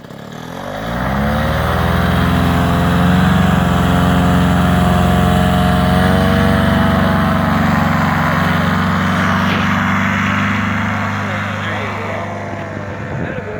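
A small aircraft engine runs hard during takeoff, a loud, steady droning roar with strong harmonic tones that holds for most of the stretch and eases slightly toward the end.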